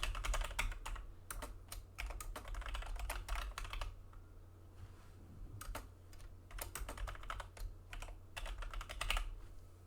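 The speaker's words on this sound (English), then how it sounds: "let me just type this out." Quiet, steady typing of code on a computer keyboard, with bursts of rapid key clicks and brief pauses, close and alone with no voices.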